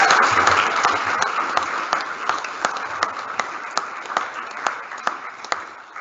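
Audience applauding at a Year 12 graduation assembly, a moderate wash of clapping that thins out into scattered individual claps as it fades.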